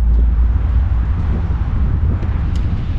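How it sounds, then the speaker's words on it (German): Strong wind buffets the microphone outdoors at a former Cold War Bundeswehr barracks in Bad Segeberg, a continuous low, rumbling roar with no pauses. "es ist windig"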